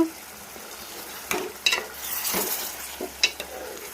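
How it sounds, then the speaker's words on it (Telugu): Dried fish curry simmers and sizzles in a pan, a steady hiss of frying with a few stirring scrapes and light clatters, close and alone with no voices. "సన్న సెక్క మీద ఉడకనిచ్చుకుంటే కర్రీ ప్రిపేర్ అయిపోతుంది."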